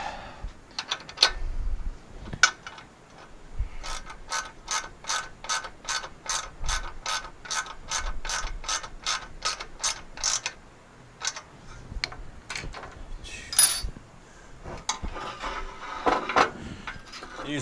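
Nuts are tightened on a rotary welding table build, a ratchet clicking in a fast, steady run of sharp metallic ticks between short pauses and a few knocks of handling, close up and alone.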